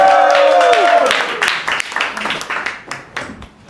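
Audience at a stand-up comedy show breaks into clapping and cheering. A dense burst of applause tails off into scattered claps, with voices and a tonal sound over the opening moments.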